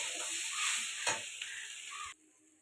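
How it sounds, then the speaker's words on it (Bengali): Banana stem frying with sugar in a pan while being stirred: a soft, close sizzling hiss with a few scraping stir clicks, quiet throughout and cutting off near the end; no voices. "চিনিটা দিয়ে আর একটু ভালো করে কষাতে থাকবো।"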